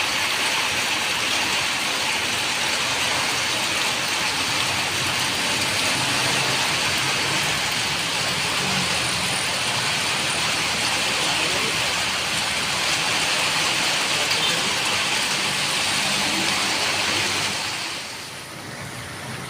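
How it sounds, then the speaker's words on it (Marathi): Heavy rain pours down in a dense, steady roar, heard from shelter under a tree, that holds for a long stretch, then eases slightly near the end; no one speaks. "जोराचा पाऊस सुरुवात झाला आहे जोराने पाऊस येत आहे"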